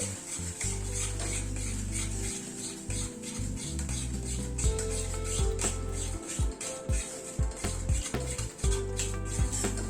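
Cashew and yogurt paste being stirred in a pan over a very low gas flame, a steady scraping and rubbing with faint sizzling and scattered utensil knocks against the pan, continuous for the whole stretch with no talk.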